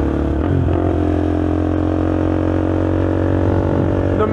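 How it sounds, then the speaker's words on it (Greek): A KTM Duke 390 motorcycle fitted with a BlackWidow exhaust, ridden up Mount Hymettus, gives a loud, steady engine drone with a low rumbling tone that holds throughout, with no speech over it. "τι ήχο πιάνει με την εξάτμιση και αυτά, αν είναι πολύ αν κάνει πολύ φασαρία ή όχι"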